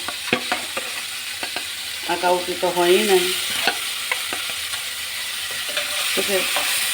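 Native koi fish fry in mustard oil with a continuous close sizzle. Utensils scrape and clack as the fish are stirred and turned, and someone talks briefly over the cooking.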